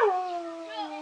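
Person imitating a dog with a single drawn-out howl, a steady falling tone held for about a second, fairly close and clear.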